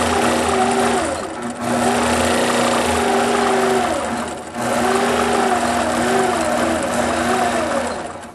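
A sewing machine fitted with a Quilt Glide stitches in a steady high motor whir with a constant tone. The run pauses briefly twice before it continues.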